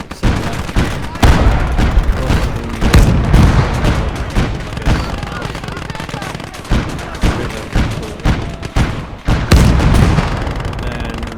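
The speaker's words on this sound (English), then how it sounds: "I'm making use of the field gun" Field gun fire in the Gates of Hell war game, with heavy, loud booming reports spaced every second or so amid scattered gunfire and battle noise, a voice talking over it.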